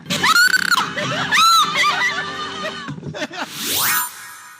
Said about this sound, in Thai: พี่แบร์เขาบอกว่าเห็นสิ่งนี้ต้องกรี๊ดแน่แน่